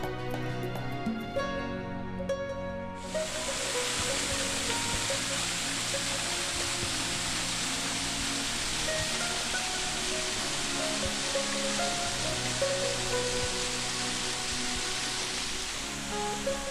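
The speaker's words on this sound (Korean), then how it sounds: "위봉폭포 참 먼 데서 보면 보기 좋습니다." The 60-meter Wibong Waterfall in the mountains pours in a continuous broad rushing roar that swells in after a few seconds of quieter music, steady and enveloping with no talking.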